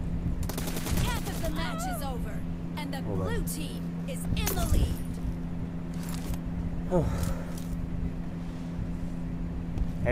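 Gunfire in the battle royale game BGMI rattles in rapid bursts and scattered single shots under a steady engine drone, while someone talks over the action.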